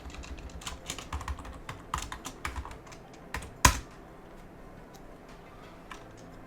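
A password is typed on a computer keyboard as a quick, uneven run of close, light key clicks, with one sharper, louder keystroke partway through and a few scattered taps after.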